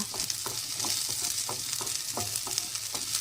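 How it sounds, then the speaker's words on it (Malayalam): Steady sizzling of food frying in hot ghee, with regular scraping strokes of a spoon stirring the pan. "ഞാൻ ഇതിനകത്ത് വെച്ച് നല്ലതുപോലെ ഒന്ന് നെയ്ക്കകത്ത് വറുത്ത് വേവിച്ചെടുക്കട്ടെ"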